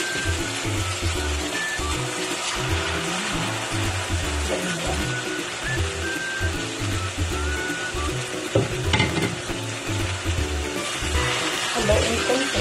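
Chicken liver frying in a pan while it is stirred, a steady close sizzle with scraping and stirring clatter running throughout and no talk.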